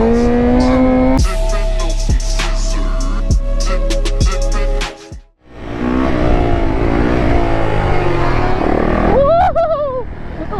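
A 750cc sport bike accelerates hard, its engine loud and close, climbing through revs in a continuous roar with a brief gear-change dip midway before pulling strongly again.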